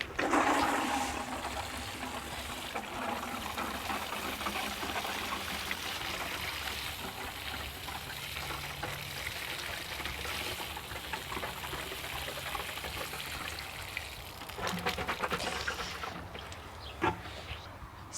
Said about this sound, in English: So get some water on that and I think that'll look great.